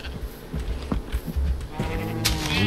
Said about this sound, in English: There's one sheep here. It's coming.